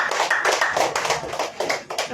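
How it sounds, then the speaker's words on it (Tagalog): Hands clap in quick, uneven bursts as an audience applauds at a church healing service, sharp close claps rising and falling with a brief lull before picking up again. "Yung palakpak nyo, mapupunti na agad ha."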